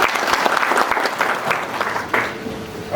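An audience at a business awards gala dinner applauds the Governor, a dense steady round of clapping from many hands that fades slightly toward the end.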